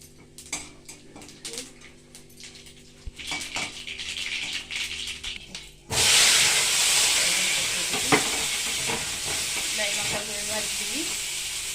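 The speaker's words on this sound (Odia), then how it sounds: "ଏବେ ଦହି ବାଇଗଣ ପାଇଁ ଫୁଟଣ ପକେଇଲି।" Whole spices tempered in hot oil for dahi baigan, brinjal in yogurt, in a home kitchen. Utensils clink and clatter first, then the spices hit the oil in a sudden loud, steady sizzle that keeps hissing close by.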